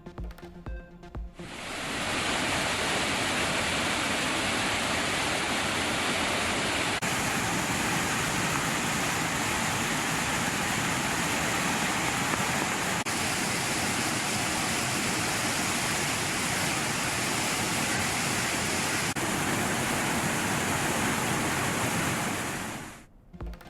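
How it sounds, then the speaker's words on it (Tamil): Roaring torrent of a rain-swollen waterfall in flood, a dense, loud, steady rush of crashing water that fills the whole stretch without pause or voices. "கனமழையால் முக்கிய அருவிகளில் வெள்ளப்பெருக்கு."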